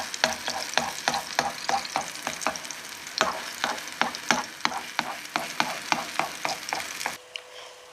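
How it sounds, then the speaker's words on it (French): A vegetarian steak fries in hot olive oil in a pan, with steady sizzling broken by frequent sharp crackles and spatters up close, then a sudden drop to quieter sizzle at the end. "Mon steak est en train de cuire gentiment et ça sent très bon."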